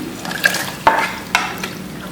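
Hot tadka tempering stirred into kadhi curry in a home kitchen, giving a soft continuous sizzle with a few sharp clinks of a utensil against the pot.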